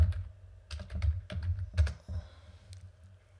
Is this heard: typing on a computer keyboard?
yes